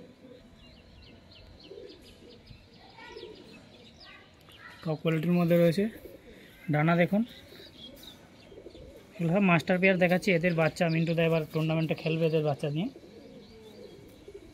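A master pair of flying pigeons coos softly in the background while someone talks loudly over them in several long bursts.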